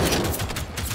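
Dense, loud gunfire from a shotgun in the video game Generation Zero, a continuous roaring burst of blast noise with small pulsing peaks, filling the whole short moment up close.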